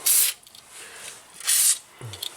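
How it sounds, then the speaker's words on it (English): Two short, close bursts of aerosol spray hiss onto a car ball joint during replacement on a Nissan Rogue, separated by a pause, followed by a faint metallic clink. "give it a little spray."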